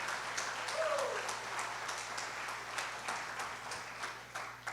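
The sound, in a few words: congregation applauding in church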